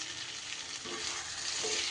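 Potato and pointed gourd korma with salt sautés in a pan, giving a close, continuous sizzling hiss broken by a couple of faint stirring scrapes.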